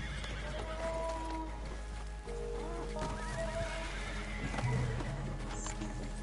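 A horse in the Western video game Red Dead Redemption whinnies and its hooves clip-clop steadily, close and fairly loud, with game ambience and faint background talk.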